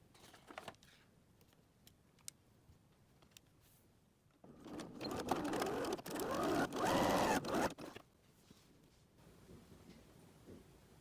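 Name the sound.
sewing machine stitching a seam on a wallet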